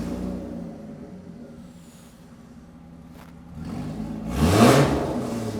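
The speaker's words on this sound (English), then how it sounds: "we've got to do the obligatory start up with no exhaust" A supercharged Jaguar XJR engine with straight pipes and no exhaust idles low, then surges into a loud rev with a rough, raw roar before settling back.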